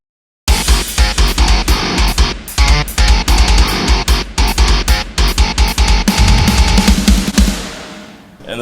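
Heavily distorted, palm-muted metal guitar riffing, notes sequenced tightly to a grid with choppy stop-start rhythmic gaps, loud and dense throughout before a brief fade at the end.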